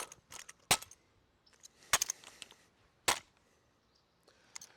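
A drill rifle spun twice in the air and caught, sounding as a few sharp, close clacks and taps spread across a few seconds, separated by quiet.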